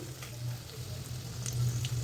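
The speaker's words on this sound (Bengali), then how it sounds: "ভীষণ হালকা হাতে ভাজতে হবে" Food fries gently in oil with a soft, steady sizzle over a low continuous hum, quiet and unbroken for two seconds.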